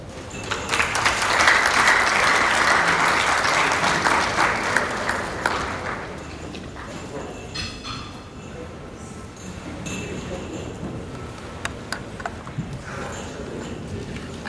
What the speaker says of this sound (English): I think we can applaud them again as they take their seats.